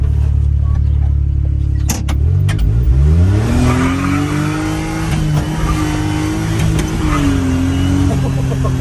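Engine of a Daihatsu Jumbo Hijet mini truck revs hard and climbs steadily in pitch as it tries to spin its tires, loud and close throughout with a sharp burst near the two-second mark.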